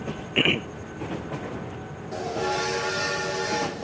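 A train rumbles along as a horn sounds in a city train video game, a brief high toot early on, then a long sustained blast over the running rail noise.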